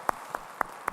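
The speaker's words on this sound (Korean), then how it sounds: "우리 원로 목사님 네 분 박수로 환영하시겠습니다." Church congregation applause during a Sunday service: four sparse, faint claps spaced evenly, thin and isolated rather than a full round of clapping.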